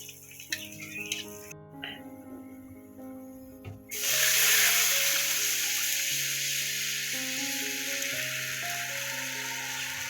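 Dried red chillies, bay leaves, cumin and onion hit hot oil for a dal tempering, and a bright hiss swells in suddenly partway through before holding steady over background music.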